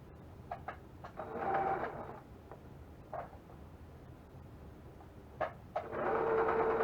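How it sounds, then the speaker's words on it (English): A sewing machine stitches a seam on patchwork fabric for a cross stitch clutch, running in a few short bursts separated by pauses, close and fairly quiet, with no talking. "I'm just going to sew directly on that line"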